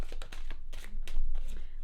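Tarot cards are shuffled by hand in a rapid series of crisp riffling slaps and flutters, close up, while a person talks over the shuffling.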